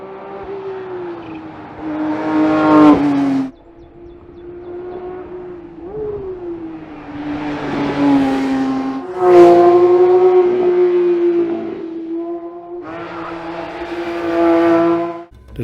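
A 2022 Porsche 911 GT3 engine with six independent throttle bodies revving in sharp, loud blips that rise toward a 9,000 RPM scream, separated by a steady idle between bursts.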